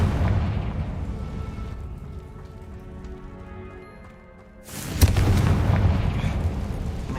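A spell-casting explosion in a magic video game: a sharp booming blast erupts after a quieter stretch, followed by a loud crackling, rumbling roar that sustains to the end.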